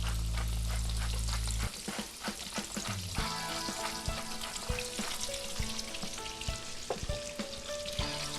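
Seasoned steaks sizzle and fry steadily in a hot pan for Steak Diane, a dense close crackle with scattered pops and no talking.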